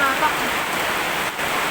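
Steady, dense downpour of heavy rain during a lightning storm, hissing continuously, close and loud with no pauses.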